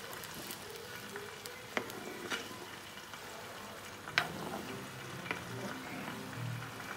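Chopped onion frying in oil for a homemade hair-care oil, giving a steady soft crackle with a few sharper pops and spits throughout, with no talking.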